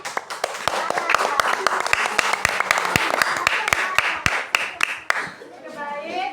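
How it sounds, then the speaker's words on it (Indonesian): Schoolchildren in an elementary classroom clap for a group presentation, with sharp, fairly quick separate claps close by over a steady background of applause, under chatter for about six seconds, fading out toward the end. "Mari kita tepuk tangan sekali lagi."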